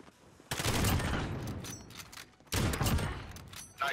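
Gunfire in a sniper shooter video game: two loud, sharp blasts with booming tails, each decaying over a second or two, close and in the foreground, with a further crack beginning right at the end.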